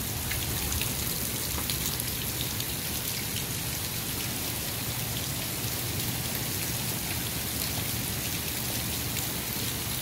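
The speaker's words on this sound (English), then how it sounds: "We're having a huge storm." Heavy hail and rain pounding down during a sudden storm in Central Florida, a dense, steady roar of impacts that stays loud and unbroken throughout, with no talking.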